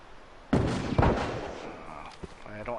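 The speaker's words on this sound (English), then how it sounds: "That dude's shooting at Tommy." Gunfire in The Last of Us: a couple of loud, heavy shots land early, followed by fainter thuds and a trailing sharp crack, set against a low background of game ambience.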